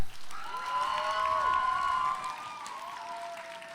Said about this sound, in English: What if we give a huge round of applause for the poet?